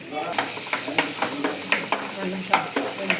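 Onions frying in a pan for chicken curry, a steady close sizzle broken by regular soft scrapes and knocks of stirring, roughly every half second, with no talking.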